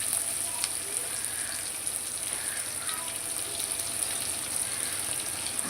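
Small shallots sautéing in a pan for a village-style vaval fish curry, a steady soft sizzle with faint stirring scrapes, continuous and quiet.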